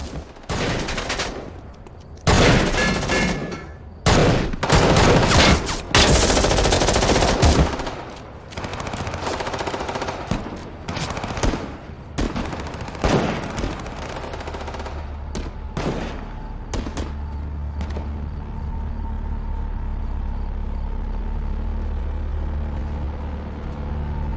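Loud bursts of machine-gun and rifle fire from an action film, heavy rapid volleys in the first half giving way to scattered shots over a low rumbling vehicle engine.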